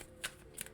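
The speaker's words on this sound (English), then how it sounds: "Give these a quick shuffle." Oracle cards getting a quick shuffle for a tarot reading, two short papery riffling bursts, close and fairly quiet with no talking.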